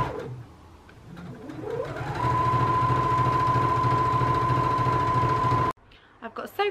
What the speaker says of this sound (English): You would have seen a tiny snippet of me a minute ago sewing together some fabric